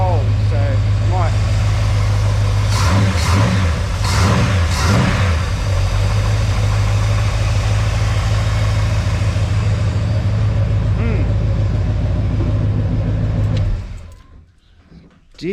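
A car engine runs steadily after its starter has been shimmed, with a low even hum and a few brief revs near the start. It sounds close and fairly loud, then cuts off near the end.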